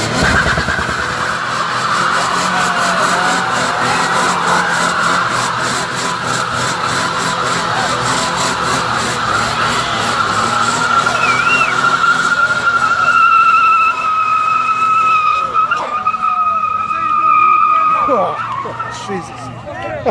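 A supercharged car engine revs loudly at a drag-racing event, its high whine sustained and climbing before fading, with tire squeal and other cars nearby and someone talking over it.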